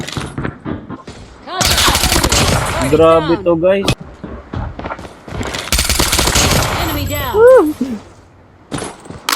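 Bursts of rapid automatic gunfire in Call of Duty Mobile, interleaved with excited talking, with a couple of sharp single shots near the end.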